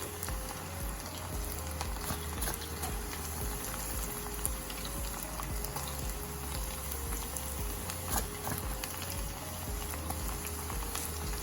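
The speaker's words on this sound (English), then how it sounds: "Remember not to overcrowd your pot. It's best to just, give them their time to fry and their space." Banana slices frying in oil in a pot, a steady dense bubbling sizzle with crackling pops throughout, faint and continuous with no talking.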